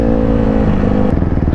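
A dirt bike engine roars loud and near on a wheelie machine, a rough revving drone with clattery pulses, alone without speech.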